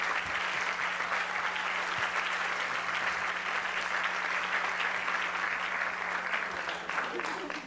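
Steady, dense applause from a large audience at an awards ceremony fills the whole stretch at an even level, tapering slightly at the very end.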